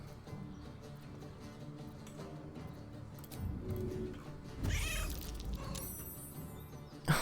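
A cat in the Baldur's Gate 3 video game gives a couple of soft meows under game music and ambience, the strongest call near the middle and not loud.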